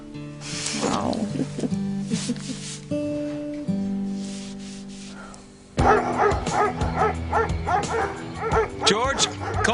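Several dogs barking, yipping and whimpering in a soap opera scene, the barks growing louder and more frantic toward the end while people speak over them.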